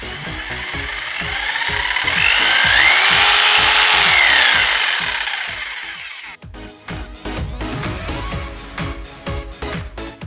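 A variable-speed jigsaw cuts through a wooden batten about 40 mm thick, giving a loud, close, steady buzzing saw rasp with a rapid chattering rhythm. The motor pitch shifts partway through, and there is no talking.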